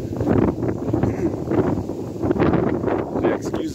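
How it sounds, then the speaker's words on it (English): Gusty wind buffets the microphone outdoors on a rainy, windy day beside an abandoned railroad, a loud, continuous rumble with surging gusts. "excuse the weather, it's a rainy, windy day here"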